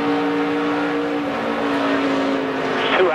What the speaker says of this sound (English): You can hear Sam pedaling the car